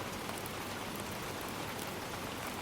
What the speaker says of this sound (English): I really like the sounds of rain, as is evident by the stream right now